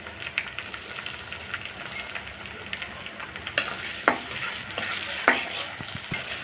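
Chopped tomatoes fry in mustard oil with a continuous soft sizzle, while a spatula scrapes and stirs the pan, adding a few sharper knocks toward the end.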